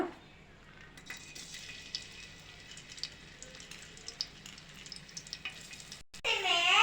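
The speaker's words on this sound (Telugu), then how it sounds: "అల్లం బాగా వేగిపోయింది" Chopped ginger fries in about a spoonful of oil in a pan, a steady close crackle that ends in a short louder burst.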